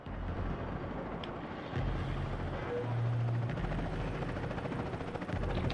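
Helicopter in the Max Payne 3 video game, a steady low rotor drone that grows slightly louder and fuller midway, continuous throughout with no talk.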